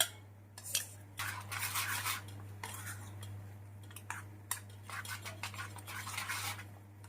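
A spoon stirs jowar dhokla batter in a small metal pot, giving repeated scraping and clinking strokes in irregular bursts, close and moderately loud over a steady low hum.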